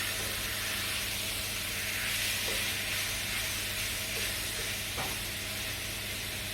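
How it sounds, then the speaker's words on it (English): Chicken stir fry sizzles in a very hot pan with a steady, close hiss while being stirred, and a few soft scrapes and taps rise above it. "you're stirring it all as well, because it's a very high heat a stir fry, isn't it?"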